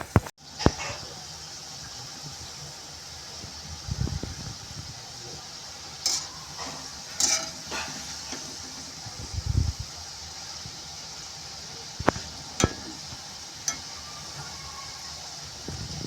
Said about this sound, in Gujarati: અને આ ભાગ છે બરોબર તળાવો જોઈએ ઉપરનો.